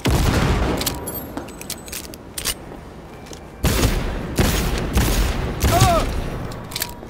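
Bursts of gunfire ring out in a Cyberpunk 2077 firefight, several clusters of rapid shots separated by short lulls, loud and close, with brief voices in between.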